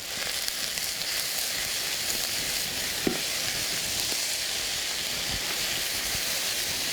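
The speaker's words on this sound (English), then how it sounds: "we're going to cook this down for a little while, stirring it around with my little spatula here" Garlic and greens wilting in a pan and being turned with a small spatula give off a steady, even sizzle and hiss. The sound stays constant throughout, with one or two faint scrapes.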